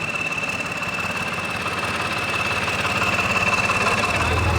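A tractor engine idles steadily nearby, a loud continuous rumble with a rhythmic knocking throb and a faint high whine, no voices.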